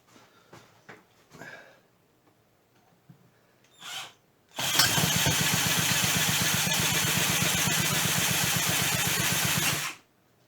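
A rebuilt weed eater engine with the choke open: a few pull-cord tugs and rattles, then the small two-stroke fires and runs loudly and steadily for about five seconds before cutting out abruptly.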